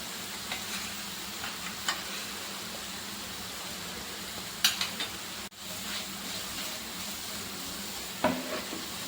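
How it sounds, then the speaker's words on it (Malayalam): Cornflour being stirred and sautéed into chicken stew in a pan, a steady soft sizzle broken by a few light scrapes and clinks of the spoon against the pan. "ഇനി ഇതിലേക്ക് 2 ടീസ്പൂൺ കോൺഫ്ലവർ പൗഡർ കൂടി ചേർത്ത് വഴറ്റി കൊടുക്കാം"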